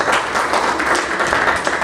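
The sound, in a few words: audience applause at an annual dinner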